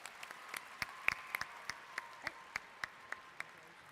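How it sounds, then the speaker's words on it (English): A small, sparse scattering of claps at a Minnesota FFA convention awards session, fairly faint and distant, with individual sharp claps spaced irregularly across a few seconds. "Let's give up one more round of applause for our State Stars in Agri-Science."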